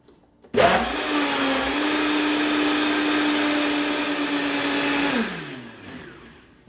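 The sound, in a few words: Vitamix blender blending key lime pie filling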